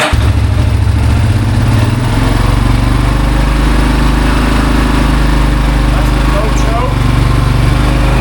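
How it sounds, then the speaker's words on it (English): A small Yamaha Terra Pro ATV engine with a PTO idles loudly and steadily up close, no choke, a continuous low rumble that settles after a brief rev at the start. "Seems to be idling pretty good."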